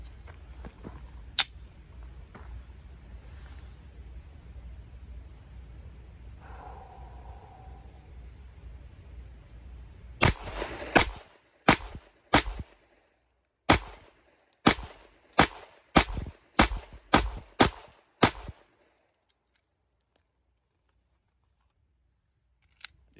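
Shadow Systems CR920P pistol fired at a range, about a dozen sharp, loud shots in an uneven string after a quieter stretch of handling noise, then silence.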